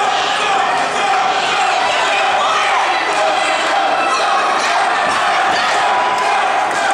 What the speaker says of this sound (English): Listen to this crowd, man.